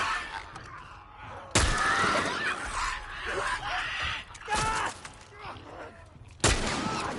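Three loud, sharp gunshots ring out at spaced intervals in The Last of Us Part 1 video game, each with a bright crack and a ringing tail, between quieter ambient game sound.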